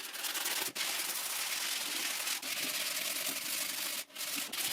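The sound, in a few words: sanding a wooden box with sandpaper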